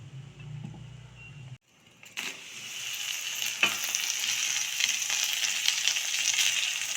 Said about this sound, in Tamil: பட்டாணி இதில் சேர்த்தாச்சு இதை நல்லா வதக்கிட்டு